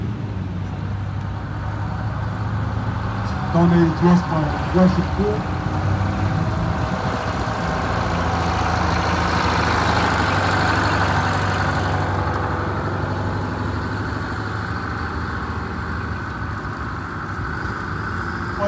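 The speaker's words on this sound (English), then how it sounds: "Next bus up is 720B, that's a 1969 GM Suburban. Accepted as a V8 engine" A 1969 GM Suburban bus with a V8 engine runs steadily at a heritage bus festival, a low rumbling drone throughout, with a voice speaking briefly over it early on.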